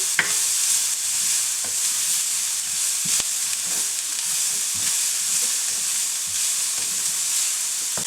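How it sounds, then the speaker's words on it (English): Green onions and cabbage sizzle and fry in a hot pan, with occasional scrapes and clanks of a utensil stirring them, continuous and close. "I'm going to stir fry this for about a minute and a half or so."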